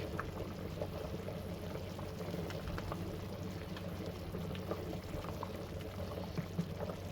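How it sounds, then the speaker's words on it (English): Thick crawfish gumbo bubbling across the whole pot, a steady low simmer with scattered soft pops and blips, continuous and fairly quiet with no talk. "the whole pot bubbles at one time"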